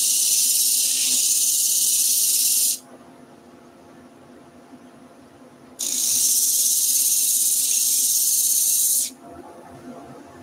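Disc sander grinding the edges of a wooden Reiterlein Christmas ornament, two sustained loud bursts of harsh broadband whine about three seconds each, separated by quieter pauses with a low motor hum.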